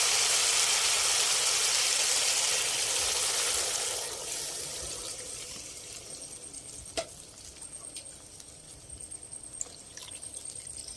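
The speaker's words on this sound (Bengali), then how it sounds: "এবারে জল দিয়ে দিচ্ছি" Water pours into fried masala in a pan for a fish roe kofta curry, a loud hissing rush at first that fades into quieter bubbling and sizzling.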